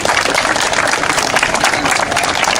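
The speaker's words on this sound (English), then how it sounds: "Let's give them a round of applause." Applause from the gathered crowd for community volunteers at a fire department mock wreck demonstration, dense sustained clapping close and loud, filling the whole stretch without a break.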